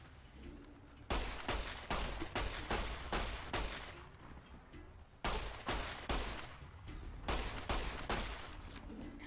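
Repeated bursts of gunfire from Fallout: New Vegas, with clusters of sharp shots in two loud volleys separated by brief lulls, close and dominant, with no talk.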